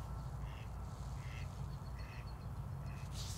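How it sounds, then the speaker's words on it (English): A duck quacks several times in short, evenly spaced calls, faint and somewhat distant over a steady low background rumble. "there goes the duck."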